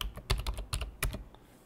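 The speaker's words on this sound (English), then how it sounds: "You can check by typing the command git" A computer keyboard is typed on in a quick irregular burst of close, crisp keystrokes, clustered in small groups with short pauses and no voices.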